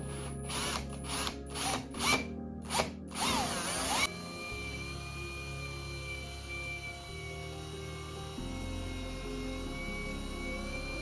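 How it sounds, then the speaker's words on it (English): Power drill cutting rivet recesses into wall paneling inside a house truck: several short loud whining bursts in quick succession, then a quieter steady motor hum carrying on alone. "There were a heap of recesses to drill, and they all had to be perfectly 2 mils deep so that the head of the rivets will be flush with the panel."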